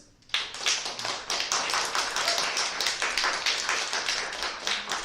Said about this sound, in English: So let's have a round of applause for No Words.